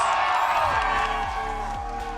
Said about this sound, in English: you can hear the crowd for the Sentinels